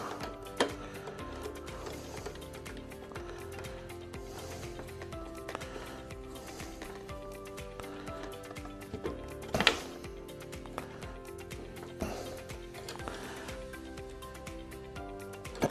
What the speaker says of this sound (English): So I'm going to take the spanner, stick it over there.